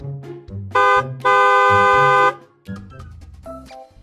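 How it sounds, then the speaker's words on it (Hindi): A car horn honks loudly in a couple of bursts, one short and one long sustained blare, over a background of mixed vehicle and street sound. "हॉर्न बजाने लगा। P P P P P."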